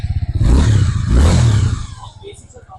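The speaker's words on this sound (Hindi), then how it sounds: "और इसका इंजन साउंड भी मैं आपको सुनाता हूँ किस तरीके का।" A Suzuki V-Strom SX 250cc motorcycle's engine and exhaust rev loudly and close by in two rising bursts, then drop back to a lower, steadier idle.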